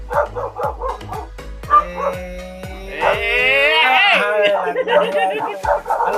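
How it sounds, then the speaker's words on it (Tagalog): Several guard dogs at a house bark and yip in quick, loud bursts close by, with one whimpering howl in the middle, while people talk through it. "Pasensya nyo na lang mga Aji yung aso kasi medyo maingay."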